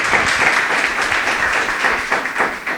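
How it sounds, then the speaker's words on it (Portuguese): A church congregation claps together after a sermon, producing a loud, sustained sheet of applause from many people that holds steady throughout. "Louve ao Senhor com as suas palmas pela palavra de hoje."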